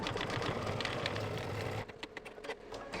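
An embroidery machine stitches mylar placement lines in a rapid, steady mechanical patter, close and continuous, easing slightly toward the end.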